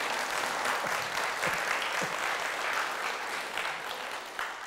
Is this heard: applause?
yes